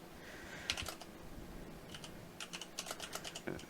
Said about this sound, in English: I'm typing to XY right now